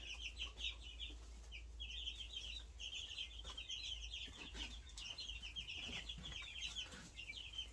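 Young quail calling in a brooder, a steady run of rapid high chirps and peeps layered over a low constant hum, with occasional faint scuffles and rustling from the birds close by.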